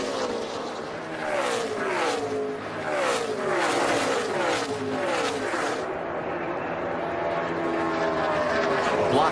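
Heard onboard at Kansas, Danica Patrick's stock race car engine screams loudly in repeated rising and falling revs through the gears, then holds a steady high drone with a commentator talking over it.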